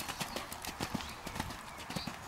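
Hooves clip-clop steadily as a horse trots in an arena during a hunter riding lesson at an equestrian club in Cherbourg, a brisk even rhythm close by, with some faint background noise.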